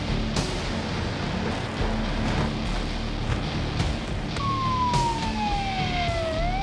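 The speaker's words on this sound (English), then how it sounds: "an ambulance arrived" An ambulance siren sweeps in briefly near the end over a dense, noisy background, a short, clear wailing tone that slides downward in pitch.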